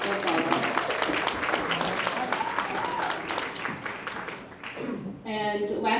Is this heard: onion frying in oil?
no